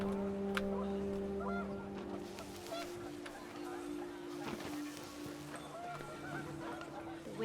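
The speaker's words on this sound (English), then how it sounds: "The wind picked up, and panicked geese appeared and quickly went." Geese honk in a windy outdoor scene in the video game What Remains of Edith Finch, with faint, scattered honks over a broad wind-like hiss and low steady tones.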